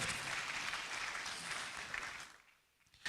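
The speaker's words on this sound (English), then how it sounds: "A round of applause one more time for Mr." Audience applause at the Otumfuo Osei Tutu II Asantehene art awards ceremony, a steady wash of clapping hands that fades out near the end, followed by a brief burst of noise.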